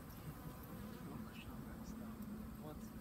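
Honey bees buzz steadily and densely throughout during a cut-out from a roof eave, a constant close swarm drone with faint background noise and no talk.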